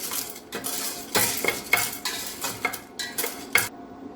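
Popcorn kernels stirred in a pot on a gas stove, giving a series of scraping, clinking strokes of metal against the pan that come in irregular bursts, close and fairly loud.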